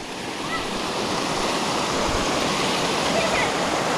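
The waterfall on Wolf Creek in Vogel State Park roars as a steady, dense rush of falling water, loud and close, unbroken throughout.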